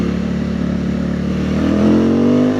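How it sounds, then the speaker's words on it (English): A Benda 707 motorcycle engine drones loud and close, its gritty, aggressive note climbing steadily in pitch as it revs under acceleration through the whole short stretch, with no voices. "This bike is no joke. And the sound is crazy aggressive."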